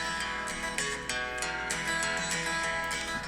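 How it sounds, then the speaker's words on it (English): A country-style song plays steadily, with sustained tonal instruments and a regular rhythmic pulse throughout. "it's like an actual country-ish sort of song."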